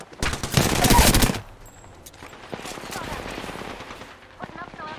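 Gunfire in Apex Legends: a loud, dense burst of rapid shots up front, then quieter scattered shots and game sounds while a voice talks.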